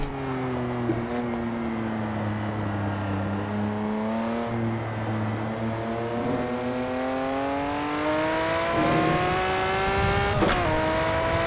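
Ferrari 512 Testarossa flat-twelve engine in Assetto Corsa, driven up a hill on the Nordschleife, holding a steady loud drone with rising and shifting harmonics as revs climb and settle, no talk over it.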